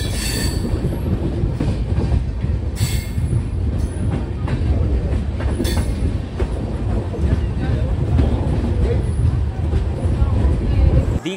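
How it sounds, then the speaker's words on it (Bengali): A train rolling into Panskura Junction railway station, with loud continuous rumble, clattering wheels and brief squeals of braking wheels across the whole stretch, while people talk under the noise. "তো একটু পরেই ঢুকতে হচ্ছে আমাদের ট্রেনটা পাঁশকুড়া জংশন রেলওয়ে স্টেশন"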